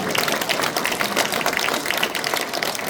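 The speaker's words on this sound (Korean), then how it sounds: "우리 안종비 교수님을 위해서 힘찬 박수 한번 부탁드립니다." Enthusiastic audience applause for a professor at a policy seminar forum in Jeju, a dense crackle of many hands clapping steadily throughout, fairly loud and close.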